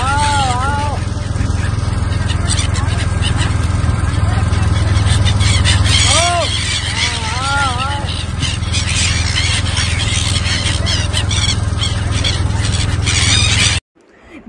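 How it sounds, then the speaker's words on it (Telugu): Siberian cranes being fed at Kashi let out loud, squealing arched calls in short bursts over a steady low mechanical drone, the cries returning several times before the sound cuts off abruptly. "విన్నారు కదా ఆ వీడియోలో మనం ఫుడ్ వేసినప్పుడు ఆ బర్డ్స్ అనేవి ఎలా అరుస్తున్నాయో."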